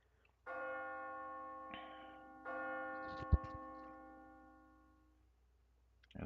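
A bell from the game Blue Archive rings out in several clear, resonant strikes, each swelling and slowly fading, with a sharp metallic clank partway through, heard alone without voices.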